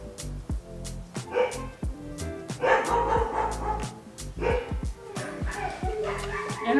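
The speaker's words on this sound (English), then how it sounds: "Hope you enjoy the sound of dogs barking in the background." Several dogs bark and yip almost continuously nearby, loud overlapping barks with some whimpering, over background music or speech.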